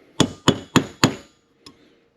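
Four quick, evenly spaced hammer taps on a clamped wheel hub, followed by a fainter fifth tap after a pause; sharp, close knocks with no talk.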